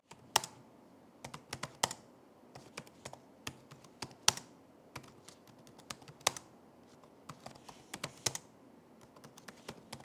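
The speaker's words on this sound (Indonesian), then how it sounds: "mending kita langsung kasih aja deh contoh suara feedback dari keyboardnya" Typing on the keyboard of a Lenovo Legion Slim 5 16APH8 gaming laptop, a steady run of sharp, close key clicks in irregular bursts with a few louder thumps, quiet and without voices.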